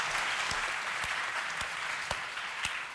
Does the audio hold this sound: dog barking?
no